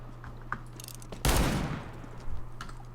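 A single loud revolver shot in Counter-Strike: Global Offensive, a sharp booming blast with a short decaying tail, set against quieter game ambience with a few faint clicks before and after.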